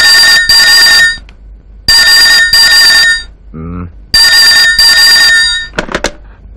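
A landline telephone in a home rings loudly in three double-ring bursts during a Telugu comedy film scene. A brief voice sounds between the rings, and a short clatter follows near the end.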